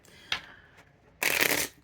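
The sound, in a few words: shuffling cards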